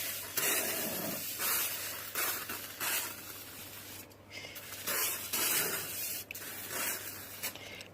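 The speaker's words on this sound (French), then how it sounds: "C'est du beurre liquide, du beurre en spray." Bursts of hissing spray from a can of liquid butter, several short and long sprays separated by brief pauses, close and fairly loud with no talk.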